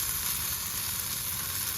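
Deer meat frying in a pan at a campsite in Huntsville State Park gives a steady, crackling sizzle, close and continuous with no talking.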